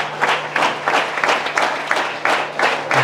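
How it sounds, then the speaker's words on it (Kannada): An audience at an Indian ceremony honouring a young soldier's parents claps loudly, with the applause coming in rhythmic surges about twice a second, fairly close and unbroken by talk. "ಅದಕ್ಕಾಗಿ ತಮ್ಮಲ್ಲಿ ಮತ್ತೊಮ್ಮೆ ಜೋರಾದ ಚಪ್ಪಾಳೆಯ ಮೂಲಕ ಅವರನ್ನ ಅಭಿನಂದಿಸೋಣ."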